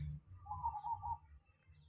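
A zebra dove (perkutut) gives one soft, rolling coo lasting under a second, fairly faint over a low background rumble.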